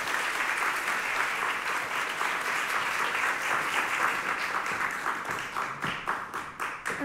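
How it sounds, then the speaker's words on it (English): Audience applause at a keynote event, dense sustained clapping from a crowd lasting several seconds, thinning toward the end into scattered individual claps. "Can we give her a round of applause?"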